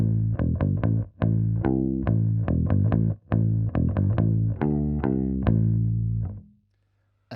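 A clean Aria Pro II bass guitar played through a FuzzBillion pedal into a bass amp, a run of round, plucked notes in a steady melodic line, ending on a ringing tail.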